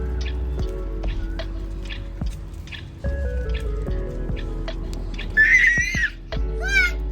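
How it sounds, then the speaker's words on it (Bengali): Big raindrops fall hard during the year's first rain, making scattered close drips and taps against a steady wet background. A few short bird squawks break in near the end. "জোরে জোরে বড় বড় ফোঁটা পড়ছে।"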